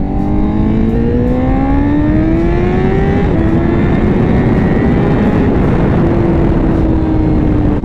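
A 2021 Honda CBR1000RR-R Fireblade SP with a Leo Vince slip-on exhaust roars loud and close, its engine pitch climbing steadily through a long pull before shifting and holding a high, continuous howl.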